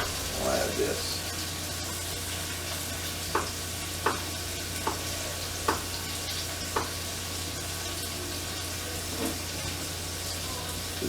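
Onion frying in a pan gives a steady, even sizzle throughout, broken by a handful of sharp clinks and scrapes from stirring spaced a second or so apart.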